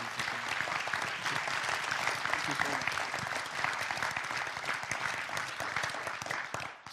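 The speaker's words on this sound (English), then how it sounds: "Let's give the panel a round of applause." An audience claps for a panel at a civic dialogue event in a theater hall, a sustained wash of many hands that stays loud throughout and fades at the very end.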